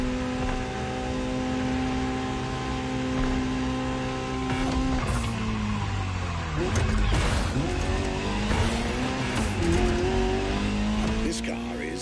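Ferrari GTO driving in The Crew Motorfest, its engine tone rising and falling through gear changes with some tire noise, loud and close, with someone talking over it.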